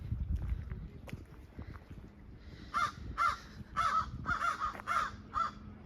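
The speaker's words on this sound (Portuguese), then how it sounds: "Isso são corvos gritando." Several crows caw in a run of harsh calls, fairly close, over a rumble of wind and distant background noise.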